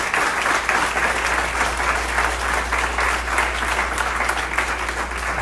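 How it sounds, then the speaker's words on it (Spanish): A church congregation applauds with steady, dense clapping that continues loud and unbroken throughout, with a low hum underneath. "Un aplauso al Señor."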